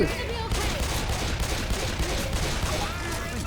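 Dense gunfire in the zombie shooter Left 4 Dead rattles almost continuously across the whole stretch, layered with game noise while players' voices talk over it.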